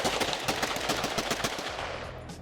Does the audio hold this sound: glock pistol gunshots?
yes